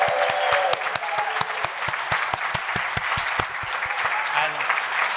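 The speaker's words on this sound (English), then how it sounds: "Big cheer from everyone here in Manchester and online." Audience applause with cheering from a gathering in Manchester, a dense steady patter of many hands clapping close by throughout, with scattered voices rising over it.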